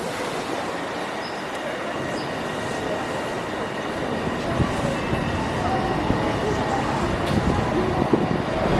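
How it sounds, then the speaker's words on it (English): A Japanese Special Rapid train rumbling steadily along the rails, with a constant dense roar that swells slightly and brief faint squeals on top. "Just gonna hop on the train, Special Rapid, I think."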